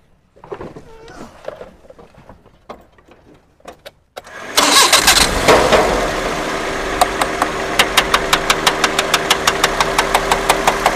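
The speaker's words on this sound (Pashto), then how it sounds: "د ماشین د انجن شور اوري ټکار" A car engine with a suspected gasket fault cranking to life after a few clicks and brief talk, then running loudly with a regular metallic knock repeating about twice a second.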